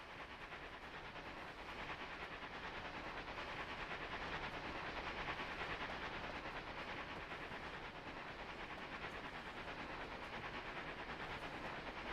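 A model train on an East Broad Top layout rolls around a curve, giving a steady, faint rumble with light clicking that holds throughout and no talking.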